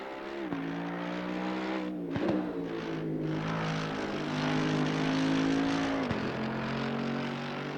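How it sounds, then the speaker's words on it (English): A Mercedes-AMG GT3 Evo race car engine in Assetto Corsa Competizione at Brands Hatch revs and accelerates continuously, its pitch climbing and dropping with three quick gear shifts, loud and steady with tire and wind noise beneath. "You see me getting on the gas to help get the car rotating."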